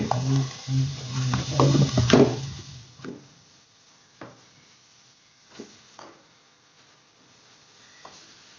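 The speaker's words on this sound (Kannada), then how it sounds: "ಇನ್ನು ನಾವು ತೊಳೆದಿಟ್ಟ ಮಶ್ರೂಮ್ ಹಾಕ್ಕೊಳ್ಳೋದು. ಸ್ವಲ್ಪ ಫ್ರೈ ಮಾಡೋದು ಸಹ." Washed mushrooms dropped into butter and sautéed onion in a pan: a loud burst of sizzling and stirring at first, then quieter spaced clicks and scrapes of a utensil against the pan.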